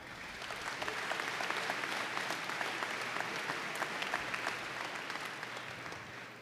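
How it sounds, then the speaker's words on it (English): A university convocation audience claps steadily, a broad even patter of many hands heard at a distance and fairly soft, continuing for several seconds before starting to thin. "Let's give them a round of applause, too."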